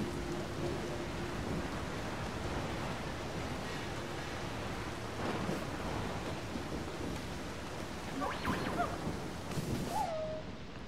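Steady, dense hiss of video game rain pours continuously, with a few faint short tones rising briefly above it near the end.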